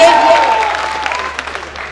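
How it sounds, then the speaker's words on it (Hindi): A crowd applauding at a ghazal and mushaira gathering in Sakinaka, Mumbai: dense clapping that starts strong and thins out over about two seconds, with voices mixed in. "एक बार जोरदार तालियां बजाकर आप सब मुझे इजाजत दीजिए"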